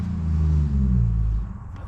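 A 1962 Chevy II that had sat abandoned for 13 years runs close by, a steady low engine rumble that swells slightly and then eases off over two seconds, with no talk over it.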